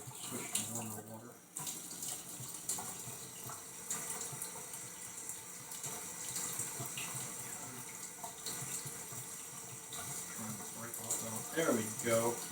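A tap runs steadily into a sink while a small painted miniature is scrubbed under it, the flow continuous and fairly close, shifting briefly near the start as the water is adjusted.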